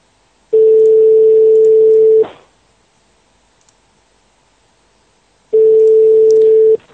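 A telephone line during an outgoing call to a snack shop: two loud steady ringback tones, each lasting under two seconds and separated by a few seconds of near silence.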